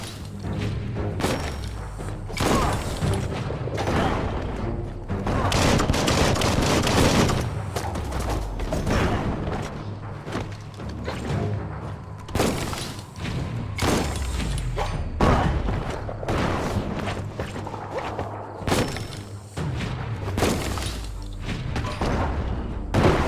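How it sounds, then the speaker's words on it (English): Bomb lobber explosions in the BioShock video game: repeated heavy booms and thuds with whooshes and bursts of gunfire, landing in an irregular barrage through a loud, continuous battle with no talking. "That's a bomb lobber."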